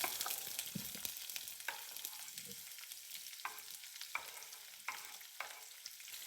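Sliced onion hits a pan of already roasted chickpeas, frying with a faint, steady sizzle broken by scattered clicks of stirring.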